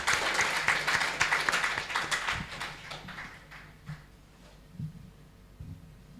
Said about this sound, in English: let us give big applause to Professor Hodge for this great presentation